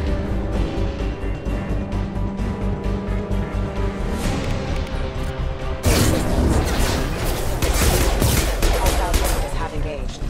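Rapid bursts of gunfire in a Mass Effect-style squad shooter, steady dense volleys that grow louder and busier in the second half, mixed with game effects and music.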